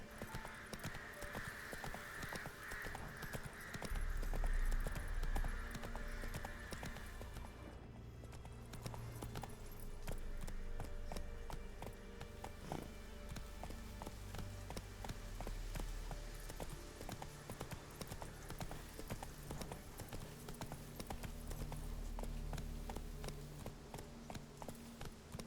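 Steady clip-clop of hooves from Geralt's horse Roach in The Witcher 3, rhythmic and continuous at moderate distance, with a brief neigh-like sound early on and game ambience underneath.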